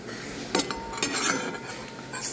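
A spoon clinks and scrapes against a dish while food is mixed, a few light metallic taps and a soft scraping, close and fairly quiet with no talking.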